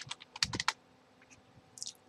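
Typing on a computer keyboard while setting up a Mikrotik bandwidth limit: a quick burst of close key clicks, then a pause and a few more taps, quiet and with no talk.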